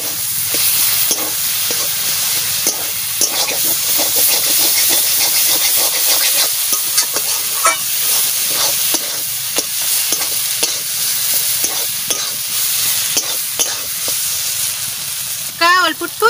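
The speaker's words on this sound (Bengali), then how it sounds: "কলার মোচা প্রায় কষানো হয়ে গেছে।" Banana blossom sizzles steadily in hot oil in a pan while being stirred and sautéed, a loud constant frying hiss with scraping stir strokes scattered throughout.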